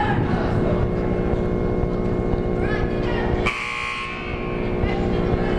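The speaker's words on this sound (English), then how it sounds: "There's a buzzer signaling the end of the timeout" A loud electronic buzzer ending a timeout at a junior varsity game blares over a noisy crowd with a commentator talking, cutting off abruptly partway through as the arena noise continues.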